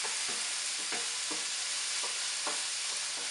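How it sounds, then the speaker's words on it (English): Peppers and onions fry in a pan with a constant close sizzle, while a utensil scrapes through them in a steady rhythm about twice a second, no talking. "I'm going to stir those around for about 30 seconds"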